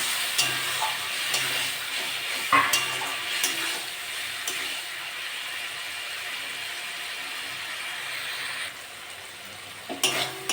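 Spice paste with tomatoes fries in a pan after water is added, for a tiger prawn curry. A steady close hiss of sizzling runs throughout, with occasional stirring scrapes and clicks.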